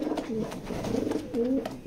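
Pigeons coo in a pigeon loft, a few soft, throaty rolling calls repeating close by, alone with no talk over them.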